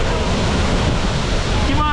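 Dense, roaring rush of the Reggae Falls waterfall in St. Thomas, Jamaica, heard up close as a loud, constant wash of falling water, with a faint voice near the end.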